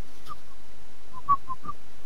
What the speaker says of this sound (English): I was just whistling to myself